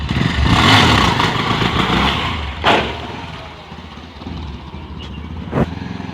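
A motorcycle engine revs hard as the rider lifts into a wheelie, a loud roaring surge early that eases off, punctuated by a couple of sharp bursts.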